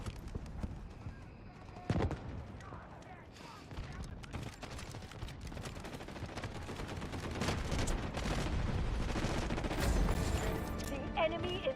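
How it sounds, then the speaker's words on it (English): An artillery barrage falls in a free online first-person shooter game, a long stretch of rapid crackling gunfire and booming impacts, building louder over the seconds, with a sharp blast near the start and no talk. "Artillery barrage incoming."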